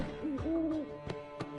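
A bird in The Witcher 3 gives a soft hooting call, a wavering pitched tone repeated a few times, with sharp clicks and a faint background ambience around it.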